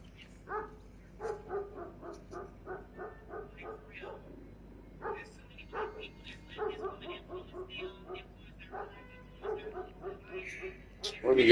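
A dog barks in repeated bursts of sharp yips and bow-wows, moderately close, over a low steady background hum, with a brief louder noise at the very end.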